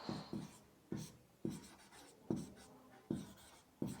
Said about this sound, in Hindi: यहाँ लिख लेते हैं हम